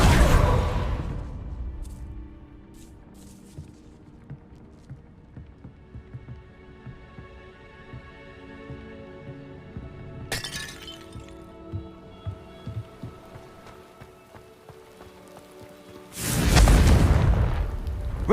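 Blasting spells explode in the Hogwarts Legacy video game: a heavy boom opens, a sharp crack lands midway, and a second loud, rumbling blast with crumbling debris arrives near the end. Quieter game ambience fills the gaps.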